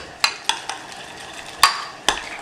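A utensil stirs green tomatoes in red wine vinaigrette, giving several sharp close scraping clinks against the bowl at irregular intervals over quiet background.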